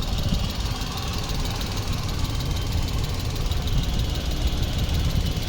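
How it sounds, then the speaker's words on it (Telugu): A 2018 Maruti Alto 800 VXI petrol car idles with an even, continuous engine hum and light mechanical rattle, steady and close throughout. "ఇంజన్ కూడా సౌండ్ వినిపించాను మీకు."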